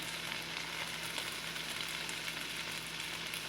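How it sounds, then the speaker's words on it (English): Lo mein noodles with green onion sauté in soy and hoisin sauce, giving a steady, close sizzle with no talking. "And I'm just going to saute this and just until my noodles are covered in my sauce."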